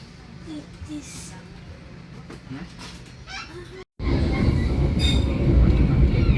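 Passenger train running into Ngadiluwih station in Indonesia, a steady rolling rumble with wheel clatter and faint squeal, then a sudden louder, fuller roar after a brief dropout; a voice speaks over it.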